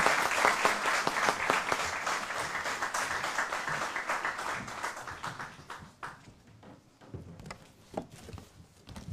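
An audience bursts into applause to welcome the Chief Minister at a formal evening event at Kellogg College, Oxford; loud, dense clapping from a full room that fades to scattered claps.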